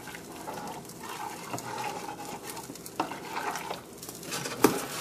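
Ingredients being stirred in a pan to dissolve salt, with soft scraping and swishing strokes, a faint sizzle and an occasional light clink of utensil against the pan, close and fairly quiet.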